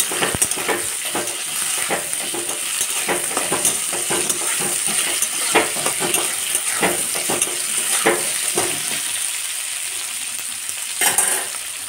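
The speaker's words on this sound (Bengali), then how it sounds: "দিয়ে দেব কুচনো ক্যাপসিকাম, দিয়ে ভালো করে নেড়ে নেব।" Chopped onion and capsicum fry in a pan for restaurant-style pasta, a constant sizzle broken by repeated clinks and scrapes of a spoon stirring, close up and with no one speaking.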